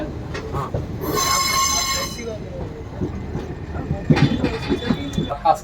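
The Sri Jagannath Express from Shalimar to Puri rolls along with steady rail rumble and a sustained high wheel squeal, then clattering wheel knocks, heard up close with a voice talking over it.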